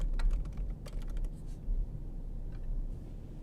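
Typing on a computer keyboard, a quick cluster of light key clicks followed by a few scattered taps, faint and close against a low background hum.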